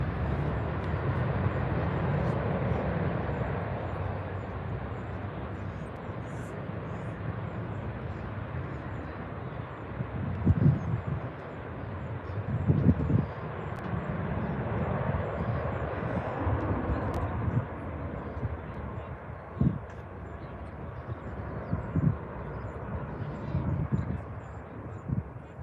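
A jet aircraft takes off at Birmingham Airport as a steady, distant engine roar that holds for the whole stretch, with a few low thumps and knocks rising briefly above it.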